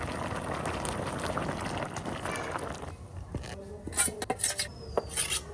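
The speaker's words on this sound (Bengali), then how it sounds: "শালুন উতলাই উঠছে" A curry of Mrigal carp with cauliflower and potato bubbles in a pot. Dense, steady boiling dominates at first, then eases into softer bubbling with clinks and scrapes.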